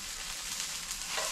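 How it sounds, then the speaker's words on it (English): The thick base of spring onion fries in a hot pan, a dense, steady sizzle with faint stirring, close and continuous without voices. "And she's just frying that up."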